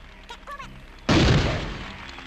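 A grenade detonates in the Worms Armageddon video game: a few brief chirpy game sounds, then one sudden loud booming blast that decays into a rumbling tail.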